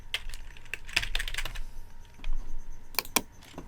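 Quick light keystrokes on a computer keyboard, a short run of clicks, a pause, then a few more taps, close and fairly quiet.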